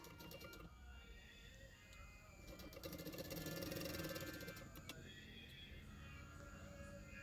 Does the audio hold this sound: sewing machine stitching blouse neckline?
yes